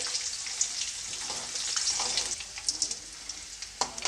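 Cashew nuts frying in oil in a pan, a steady close crackling sizzle with scattered sharp pops and faint stirring throughout, no voices.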